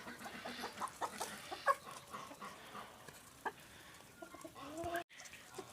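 Chickens cluck and murmur softly in an open farmyard, scattered short calls rising and falling, with faint background farm sounds of turkeys and ducks.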